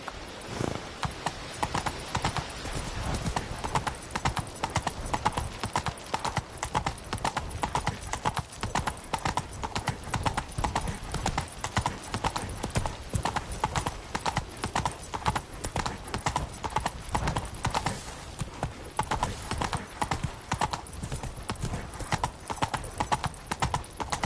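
Roach, a horse in The Witcher 3: Blood and Wine, trots with steady rhythmic clip-clop hoofbeats filling the whole stretch, loud and close, with faint game ambience behind and a brief snort or whinny.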